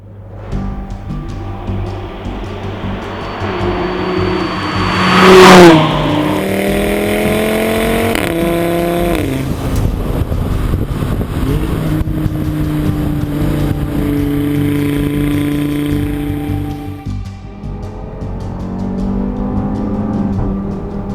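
A 2015 Audi RS3 Sportback (8V) hatchback engine of 367 horsepower accelerates hard, climbing through the revs, dropping at gear changes and climbing again in loud, close sweeps lasting about twenty seconds.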